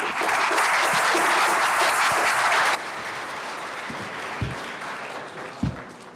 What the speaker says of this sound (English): Lots of clapping, okay?